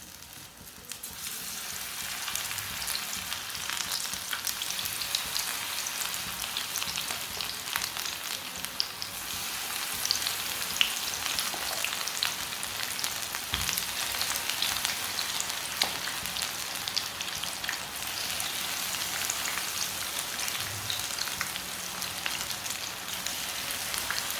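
Lentil tikki patties fry in a little oil in a pan on low heat, giving a steady, even hiss of sizzling that holds at moderate loudness throughout, with no voices.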